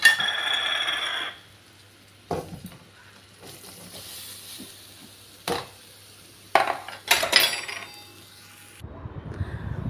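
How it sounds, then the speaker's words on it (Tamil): A spoon works through mango pickle in a pot, making intermittent metallic clinks and scrapes against the rim. An early burst of hiss gives way to several sharp knocks, and the sounds are close and moderately loud, with no talking. "மாங்காய் எல்லாத்தையுமே போட்டு அப்படியே நல்லா கிளறி எடுத்து வச்சுருங்க"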